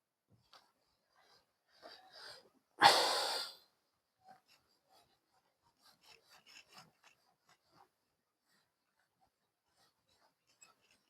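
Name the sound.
rubbing out writing on a board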